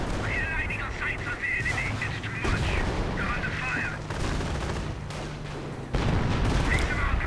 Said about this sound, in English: Grenadiers getting gunned down. Stug 42 firing away.